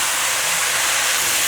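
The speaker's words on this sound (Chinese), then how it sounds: "继续翻炒，炒至水分收干" Mushroom filling stir-fried in a pan until its liquid cooks off, giving a steady, loud, broadband sizzling hiss with no break or talk.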